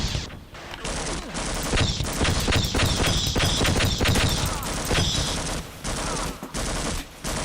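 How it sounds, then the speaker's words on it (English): Dense, sustained video-game gunfire with rapid automatic bursts and scattered shots, loud and close throughout, with a few brief lulls. "And I think they're shooting at security guard"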